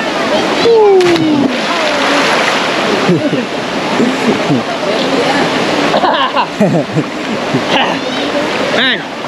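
Loud splashing as someone jumps into a jungle river while camping at Ogersland, Ulu Kongsor, with rushing water and excited voices throughout.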